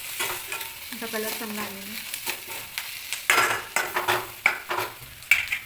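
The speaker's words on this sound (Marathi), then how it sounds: "हळद घातल्यानंतर थोडंसं परतून घ्यायचं." Poha ingredients are stir-fried with turmeric in a pan, with a soft sizzle under scraping spoon strokes that grow sharper and more frequent toward the end. Someone speaks briefly near the start.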